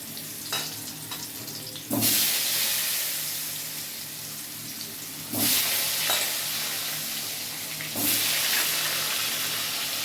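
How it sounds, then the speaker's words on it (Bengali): Potatoes cut into large chunks fry in hot oil for a fish-head rice dish, a steady close sizzle with three sudden louder bursts of crackling as they are stirred or turned. "এবার আমি আলুগুলো ভালো করে ভেজে নেবো।"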